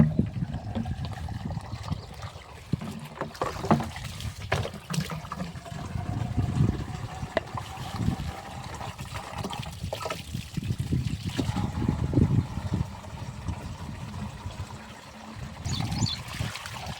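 Water runs and trickles continuously into a Bisleri bottle, with an uneven gurgling flow and occasional knocks, over a stretch of background noise.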